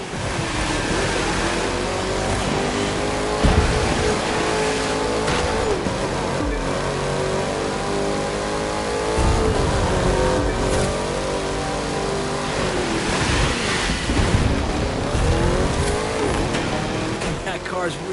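A car in The Crew 2 racing game drives fast, with a loud, continuous engine roar that climbs and drops through repeated gear changes over a steady rush of road noise.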